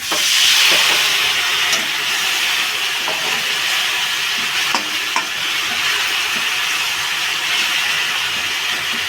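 A splash of water hits cumin powder in a hot pan while cooking Bengali papaya ghonto, setting off a loud, steady sizzling hiss with faint clicks of stirring. No voices are heard.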